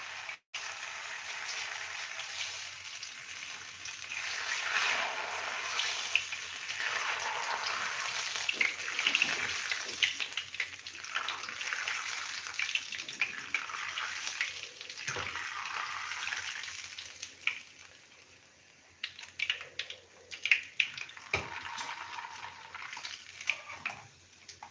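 Medu vada batter sizzles steadily in hot oil, a loud, continuous bubbling hiss with occasional spikes as pieces are added.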